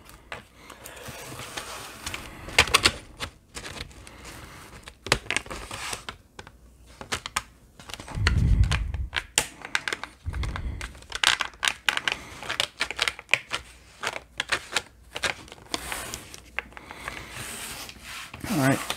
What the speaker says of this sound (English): I'm sure you can hear that clicking. That's just the bezel actually coming off the screen.